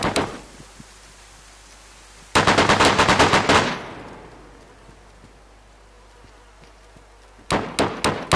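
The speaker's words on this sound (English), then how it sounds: "I'm getting shot at." Gunfire in the video game DayZ: a single shot, then a dense rapid burst of automatic fire that fades into a quiet pause, and a final short rattling volley near the end.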